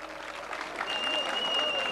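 An audience applauds at a town culture and arts festival in Güzelbeyli, a dense continuous patter of many hands that holds steady and grows slightly louder, with a sustained tone running through it.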